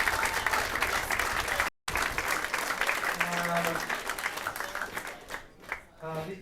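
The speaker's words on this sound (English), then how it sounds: "So please give a round of applause for that as well." Audience applause at a closing ceremony, steady dense clapping from a large crowd filling most of the stretch, with a brief gap and a few voices as it thins out near the end.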